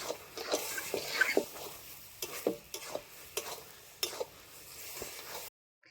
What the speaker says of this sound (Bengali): আর একটু সময় নাড়াচাড়া করে নামিয়ে দেবো